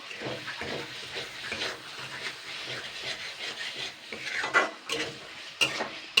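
Boiled chickpeas and raw gram are stirred in a pan while cooking taro greens, giving soft continuous scraping and rubbing with a few sharper utensil knocks near the end, moderately close.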